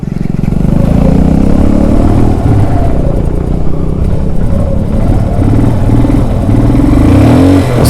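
A motorcycle on sandy ground near Pangong Lake struggles with pickup at start, its engine loud and close, revving and rising in pitch several times as it pulls away, with no talking.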